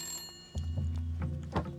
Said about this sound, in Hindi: विधायक जी का फोन है।